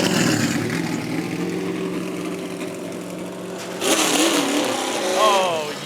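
A NASCAR race car rolls through the garage during Sprint All-Star practice, its engine rumbling steadily and then rising in a louder revving surge, with a commentator talking over it.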